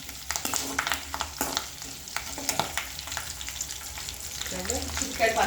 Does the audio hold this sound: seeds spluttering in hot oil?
yes